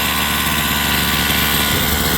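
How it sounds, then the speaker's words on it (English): A Rovan 45cc gas engine that seems to be running poorly, as if not breathing right, drones steadily at close range with a rough, buzzing, vibrating tone and no talk over it. "the engine is running, but I don't know"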